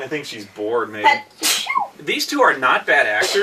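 A person gives one sharp sneeze in the middle, brief and close, set between stretches of a voice talking in a room.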